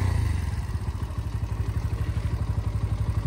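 A Bajaj Pulsar NS125 BS6 motorcycle engine running just after starting, with a close, steady low thumping idle and a rapid regular pulse, heard alone without talk.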